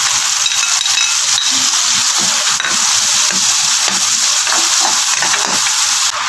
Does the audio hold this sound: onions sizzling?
yes